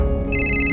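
A phone ringtone chimes in with bright repeating electronic tones over a steady low hum, close and clear.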